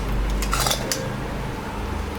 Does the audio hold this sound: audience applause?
no